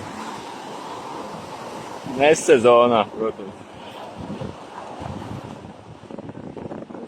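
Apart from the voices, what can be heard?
waves on a volcanic beach on the Aegean Sea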